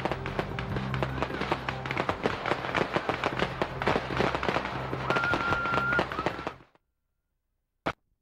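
Fourth of July fireworks burst in a dense, continuous barrage of crackles and pops, then cut off abruptly, followed by silence and one last isolated bang.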